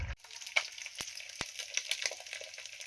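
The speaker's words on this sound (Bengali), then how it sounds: "মাছ ভাজা কমপ্লিট" Fish frying in a pan in a home kitchen gives a faint, steady sizzle, broken by a few sharp clicks of a utensil against the pan.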